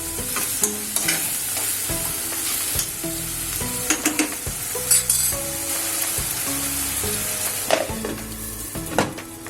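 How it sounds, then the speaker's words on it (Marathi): Onion frying in a pan for a capsicum gram flour dish, a continuous close sizzle with frequent spatula stirs, scrapes and light metallic clinks throughout, no one speaking. "हा कांदा मऊ होऊ देऊ आपण जरा त्यासाठी मी झाकण ठेवते त्याच्यावर"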